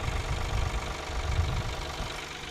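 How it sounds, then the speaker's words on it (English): A blue tractor engine runs steadily while the tractor is driven, a dense low rumble with a slightly knocking, uneven throb that holds at a constant level throughout without any talking. "that was us driving a tractor here, part 1"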